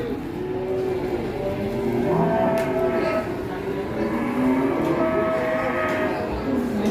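Several Qurban sacrifice cows, one with an eye problem, moo at close range, long low calls overlapping amid a busy background of people talking and engine noise.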